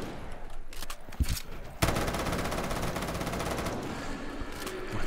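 A double-fire weapon in Black Ops 3 Zombies unleashes a rapid, sustained burst of automatic gunfire after a few scattered shots, loud and close against game ambience, with no talk.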